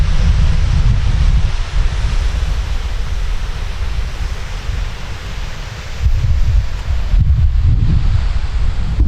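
Steady roar of a waterfall at Speke's Mill Mouth on a coastline, continuous broadband rushing water with deep rumbling surges, loud and close with some wind buffeting.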